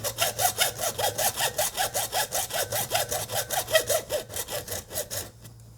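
A hacksaw cuts through a 3D printed prop gun part in quick, steady back-and-forth strokes, close and loud, about twenty strokes in a row before stopping.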